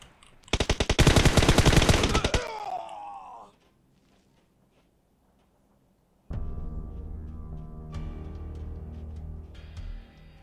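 Automatic gunfire from PUBG Mobile rattles in a loud, rapid burst for about two seconds before cutting off. A stretch of near silence follows, then a steady game ambience with other tones comes in.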